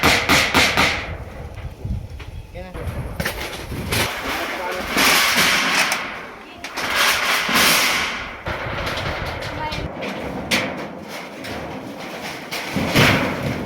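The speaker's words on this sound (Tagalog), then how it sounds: "Martilyo." Repeated sharp metallic hammer strikes on galvanized iron roofing sheets, busy and fairly close, mixed with clatter and voices talking in the background.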